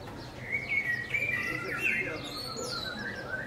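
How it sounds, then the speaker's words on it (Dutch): Small birds chirp and tweet outdoors near an apartment in Austria on a fine day, with a run of bright, quick calls of moderate loudness over a soft background hum. "Hoor je de vogeltjes?"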